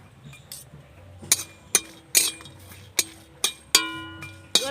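Three dry red chillies are stirred in a dry wok (karai), making a series of about seven sharp metallic clinks at irregular intervals, each ringing briefly, over a low quiet background.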